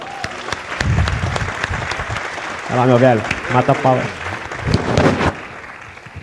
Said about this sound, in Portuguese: Salva de palmas, gente.